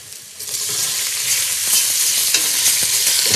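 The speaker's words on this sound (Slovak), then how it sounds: "Teraz meso opečeme, kým sa nezaťahne a nezíska zlatistú farbu" Chopped pork sizzles loudly in a pan for a pilaf as it is stirred, with steady bright frying hiss and a few scraping utensil strokes, no talking.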